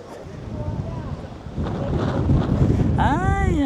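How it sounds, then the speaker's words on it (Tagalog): Wind gusts outdoors at a high lookout in Busan, a rough, rumbling buffeting on the microphone that grows stronger toward the end, with a brief tonal whistle near the close. "Ay, ang sarap ng hangin."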